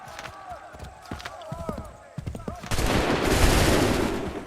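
Musket fire bursts out in Assassin's Creed III, first a few scattered sharp shots with hoofbeats and shouted orders, then a dense, sustained volley crackle that swells and fills the scene.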